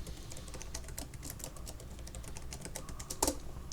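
Rapid keystrokes on a computer keyboard as a new password is entered while setting up a SoftEther VPN server on Ubuntu, a steady close run of clicks ending in a sharper key press.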